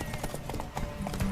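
Horse hooves clip-clop in The Witcher 3 video game, a steady rapid trot of clear close hoofbeats across the whole moment, with a faint whinny-like tone near the end and game ambience beneath.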